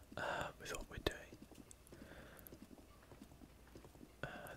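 Horse hooves clip-clop in Zelda Breath of the Wild game audio, soft irregular steps under a whispering voice.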